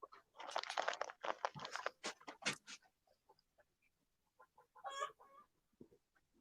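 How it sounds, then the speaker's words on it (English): A chicken clucks in a quick run of short, choppy clucks, then a few scattered softer ones and a final louder squawk-like cluck, all faint and at some distance. "Was that one of the chickens?"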